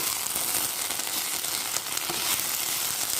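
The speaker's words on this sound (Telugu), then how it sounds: "సిమ్లో అలా వేగనిద్దామండి" Okra (bendakaya) frying in a pan over a low flame, a steady close sizzle and crackle continuing without a break and with no voices.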